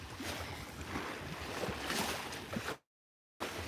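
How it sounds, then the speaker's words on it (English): Sea waves washing over a shingle beach in Dubrovnik, a continuous broad rushing wash with gentle surges, steady and moderately close, broken by a brief silent gap near the end. "all you can hear is the waves"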